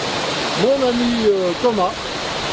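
The grande cascade at the far end of the cirque de Saint-Même gives off a loud, steady roar of falling water, with a voice speaking close up over it.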